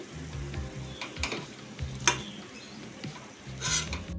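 Palm fritters (taaler bora) fry in hot oil as they are stirred, with a steady close sizzle broken by a few sharp clinks and scrapes.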